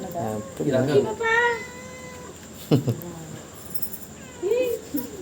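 A cat meows several times close by, drawn-out rising and falling cries with gaps between them, while people talk nearby.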